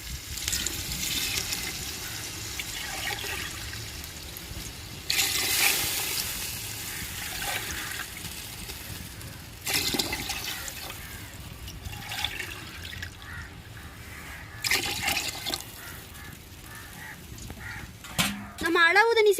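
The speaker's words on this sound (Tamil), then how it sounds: "தேவையான தண்ணி சேர்த்துக்குருவோங்க." Water poured into a cooking pot for squid and prawn biryani, a continuous close gushing and splashing that swells in several bursts over the whole stretch, without talk over it.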